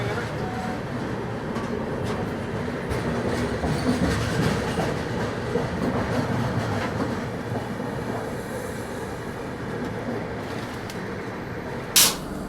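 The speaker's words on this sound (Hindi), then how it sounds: "अपनी ट्रेन का डिपार्चर हो गया" A passenger express train rolls away with a steady rhythmic clickety-clack of wheels over rail joints, heard from inside a carriage, with a sharp bright squeal or clatter near the end.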